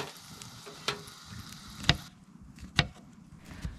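Food frying in a cast iron pan on a wood stove inside a hot tent during winter camping on lake ice, a faint soft sizzle punctuated by a few sharp clicks and taps.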